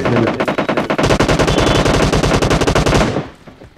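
An M249 machine gun fires in a video game as a loud, close, rapid rattling burst of evenly spaced shots lasting about three seconds before cutting off.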